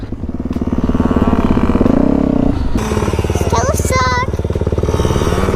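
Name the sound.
child riding a small motorcycle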